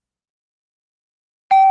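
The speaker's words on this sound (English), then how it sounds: "we got the bell" A single bright bell ding rings out suddenly after silence, a clear sustained tone marking a correct answer in a sports radio show guessing game.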